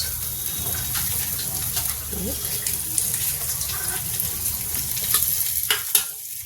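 Onion and broken green chillies frying in a little oil for dal puri, a continuous close sizzle with scattered scraping stirs and a few sharp clicks near the end.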